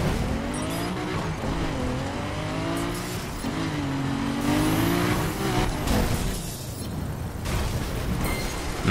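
Godzilla dragster in The Crew Wild Run roaring through a wheelie, its engine note rising and falling in loud sweeping revs with tire squeal and shifting pitch, close and continuous.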